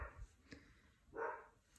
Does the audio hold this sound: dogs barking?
yes